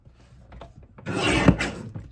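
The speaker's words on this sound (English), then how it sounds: "so I want you to put the paper in the trimmer with it dipping from the top of the trimmer down to the bottom" A paper trimmer slicing through card stock, starting with light shuffling and handling of the paper, then a brief scraping rasp of the blade cutting, with a faint thump near the end.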